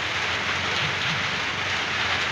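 Heavy rain pours down in a steady, dense hiss of drops drumming on surfaces, loud and unbroken with no voices heard.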